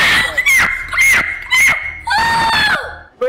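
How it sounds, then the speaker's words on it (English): A girl screams from another room in short shrill bursts, several sharp cries in quick succession followed by a longer wailing shriek. "I hear her scream from the other room"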